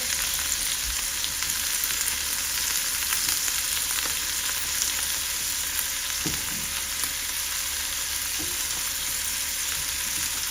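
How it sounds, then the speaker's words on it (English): Cream-based bisque simmering in a pot, giving a steady, fairly loud bubbling and sizzling hiss throughout with a few soft clinks, no voices. "I am going to turn off the bisque now because it's starting to bubble"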